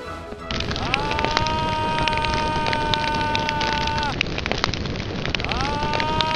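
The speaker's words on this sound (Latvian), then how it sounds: "Atkal kaut kas sprāga." A loud, sustained roaring blast with crackling debris and a rising-falling whine, continuous for several seconds.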